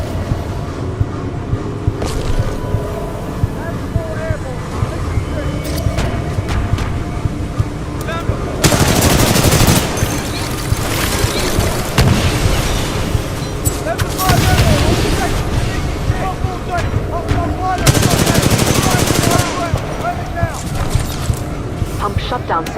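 Sustained automatic gunfire in the sci-fi shooter Titanfall 2, loud and close, with rapid bursts and heavier blasts repeating throughout, under game voices and mechanical battle noise.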